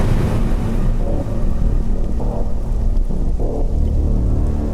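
Steady, heavy rain hisses loudly and continuously, a dense wash of noise with a low rumble underneath and no voices.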